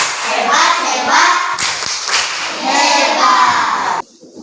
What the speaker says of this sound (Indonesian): tepuk hebat lagi buat Filia